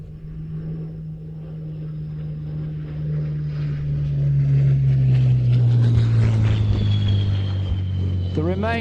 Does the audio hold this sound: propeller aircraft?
yes